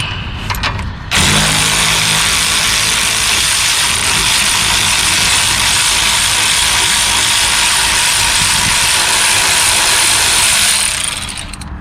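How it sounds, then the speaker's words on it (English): A 14 mm ratcheting wrench turning a front strut bolt on a 2007-2011 Nissan Versa, a loud continuous close mechanical whir after a brief start, steady throughout. "With a 14 mil wrench, you can get right behind it just like this."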